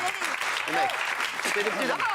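Studio audience clapping on a French television debate show, a brisk spell of applause running under overlapping voices that talk through it.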